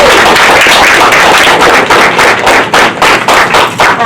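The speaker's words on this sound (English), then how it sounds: "if we could give them a round of applause" Dense, loud applause from an audience honoring a Beirut Marine Corps family, a steady wash of many hands clapping that holds for several seconds before thinning slightly toward the end.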